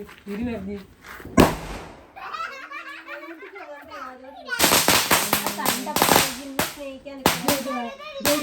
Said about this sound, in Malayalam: പടക്കത്തിൻ്റെ പൊട്ടലും ചീറ്റലൊക്കെ കഴിഞ്ഞിട്ട്